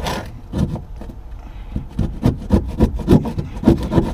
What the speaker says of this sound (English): we'll just start with a regular scraper